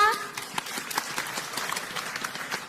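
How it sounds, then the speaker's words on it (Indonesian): Brief burst of audience clapping for group A at a provincial high school quiz competition in Jambi, a fairly loud, close patter of hands that starts as a voice finishes speaking. "berikan ya. tepuk tangan untuk grup A."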